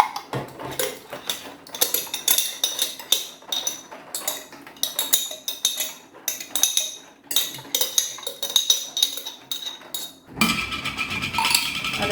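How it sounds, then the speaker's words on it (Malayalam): A metal spoon clinks and scrapes steadily against a glass or bowl while soaked chia seeds are stirred, the quick irregular taps continuing close and clear before a brief change in texture near the end. "ചിയാ സീഡ് സോക്ക് ചെയ്ത് വെച്ചിരുന്നത് ഒന്നുകൂടെ ഒന്ന് മിക്സ് ചെയ്തെടുക്കണേ"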